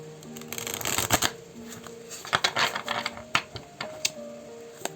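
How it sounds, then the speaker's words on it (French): Tarot cards shuffled by hand in a series of crisp riffling bursts and soft flicks, close and fairly loud, with a low musical tone running underneath. "Donc on va un petit peu battre les cartes."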